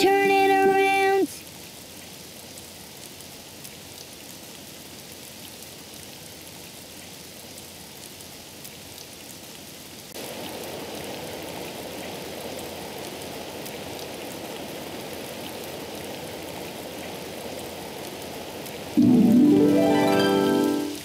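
Steady rain falls outside, a continuous even hiss of drops that carries on alone for most of the stretch, with louder brief sounds breaking in at the start and end.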